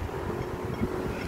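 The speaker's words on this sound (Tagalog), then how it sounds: "Wow, ang sarap ng simoy ng hangin." Wind blowing outdoors around a person walking for exercise near tall buildings: a steady, rough rush of air buffeting the microphone, continuous and fairly loud, with no voices.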